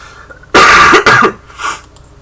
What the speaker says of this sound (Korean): 오늘 같은 경우에도 이제 기침이 계속 됐고